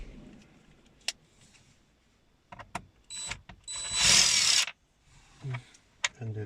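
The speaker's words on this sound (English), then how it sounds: "Undo the screw." A hand tool works the screw on a 2002–07 Toyota Corolla climate control panel, giving sharp ratcheting clicks and a sustained grinding burst mid-way, close and mechanical, with scattered knocks around it.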